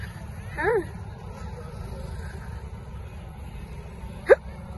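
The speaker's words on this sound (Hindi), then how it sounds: "हिचकी क्यों हो रही है?" Two hiccups from a person at the Mahakumbh camp, one soft early and one sharper near the end, over a steady background hum.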